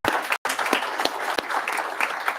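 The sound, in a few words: audience applause for honoree at board meeting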